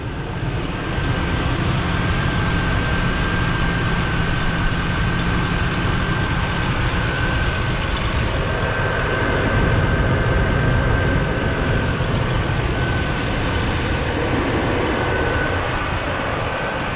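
A 2005 Ford F150 XL pickup with a 4.2 liter V6 idles steadily, giving a loud, close, continuous engine rumble with a faint whine and no talking.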